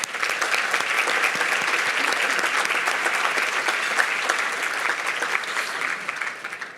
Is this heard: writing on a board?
no